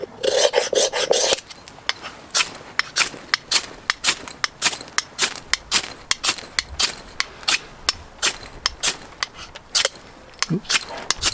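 A giant ferro rod has its coating scraped off in repeated rough, rasping strokes, close and fairly loud, with a steady rhythm after a longer scrape at the start.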